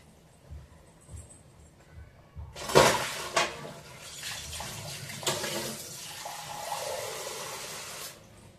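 Water poured out of a cooking vessel and fresh water run in while rinsing rice for a curry of dried fish, brinjal and tomato, a splashing burst followed by a steady running flow for several seconds, close and alone.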